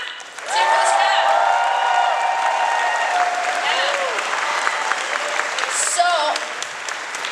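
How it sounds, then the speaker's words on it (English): Convention audience at BronyCon applauding the staff, a large crowd clapping steadily with some cheering, with a voice and scattered crowd voices over the applause. "So huge, huge, huge round of applause, yeah? Let's hear it for the staff."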